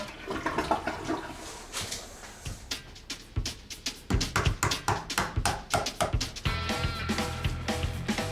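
A toilet flushing in a house, a loud, close rush of water with rhythmic gurgling surges building over several seconds, alone without talk.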